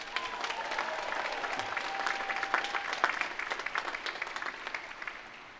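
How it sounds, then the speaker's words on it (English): Sustained audience applause for faculty at a university graduation ceremony, a dense, steady wash of many hands clapping from a large crowd, rising slightly and then tapering off near the end. "please join me in giving them a huge round of applause."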